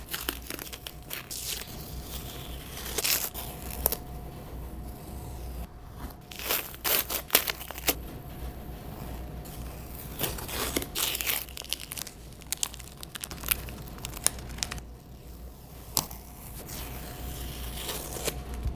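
Painter's tape peeled off painted shoes, a run of soft crinkling and tearing rasps in short irregular bursts, close and fairly quiet, with no talk.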